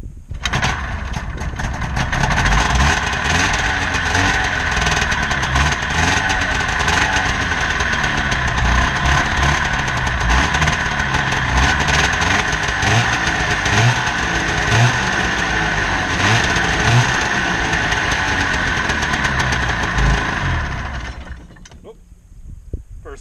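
A vintage snowmobile engine started after one pull, then running loudly and steadily for about twenty seconds with a rapid mechanical clatter and rattle before abruptly cutting off near the end.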